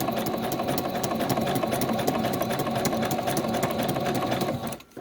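A sewing machine runs a zigzag stitch on primitive journal tags, a steady close mechanical whir with rapid needle ticks that stops abruptly at the end.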